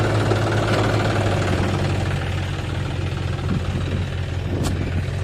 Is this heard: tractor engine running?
yes